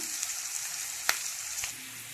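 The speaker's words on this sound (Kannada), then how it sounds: "ಚುಲತ್ನಾಗೆ ಉಳ್ಳಾಗಡ್ಡೆ ಎಲ್ಲ ಬೈಲಿ ರೀ" Onions fry in a pan as a base for potato curry, giving a steady close sizzle with a couple of sharp clicks from stirring.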